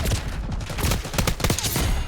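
Gunfire in Black Ops 6 ranked play comes as rapid bursts of shots, close and loud, packed into a couple of seconds with no speech.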